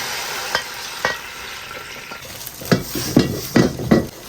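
Stir-frying in a wok with oyster sauce added: a steady sizzle runs throughout while the spatula scrapes and clatters against the pan in repeated strokes, growing busier toward the end.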